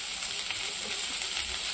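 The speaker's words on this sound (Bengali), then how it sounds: "পেঁয়াজটা একটু হালকা ভাজা হচ্ছে" Sliced onion gently frying in oil in a cooking pot over low heat, a faint, steady, high sizzling hiss that continues evenly without breaks.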